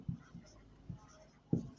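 A pen writing out a coordinate-geometry problem on paper, heard as four short, soft strokes with pauses between them, the last one firmest, in a quiet room with no talking.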